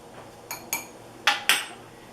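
Four sharp clinks of a utensil against a bowl while apple pie filling is stirred in a very full bowl, arriving in two close pairs, moderately loud against a quiet background.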